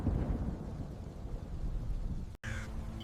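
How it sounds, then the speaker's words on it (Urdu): Thunderstorm with thunder and rain, a deep rumble over steady hiss of rainfall, loud at first and easing, broken by a brief cut before the rain continues. "اسی رات آسمان کالے بادلوں سے بھر گیا، بجلی چمکی، ہوائیں گرجیں، اور بارش نے گاؤں کو"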